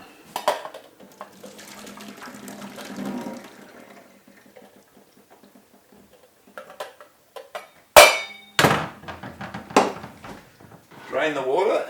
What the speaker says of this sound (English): So I'll just drain the water.